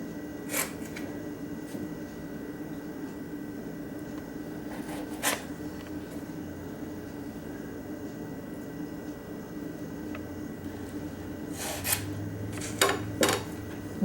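A sharp serrated knife trims the sides of a quarter sheet cake on a cake board, giving a few soft rasping strokes spaced apart, quiet and close, with a quicker cluster of sawing cuts toward the end.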